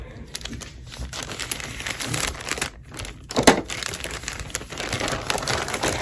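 Plastic mailer from a monthly t-shirt club being cut open and handled, giving close, continuous crinkling and crumpling with a sharper rustle midway.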